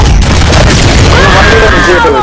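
A shotgun blast booms in a Gears of War 3 ranked team deathmatch, a single loud burst amid a dense, noisy game mix with voices talking over it.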